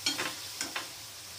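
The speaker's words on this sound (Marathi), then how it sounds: "हे छान मिरचीचा कच्चापणा जाईपर्यंत परतून घ्यायचं" Green chilies sautéing in a pan for a Maharashtrian pitla, a soft sizzle with a few quick stirring scrapes, quiet and close.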